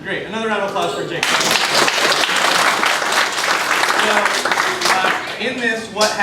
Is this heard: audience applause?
yes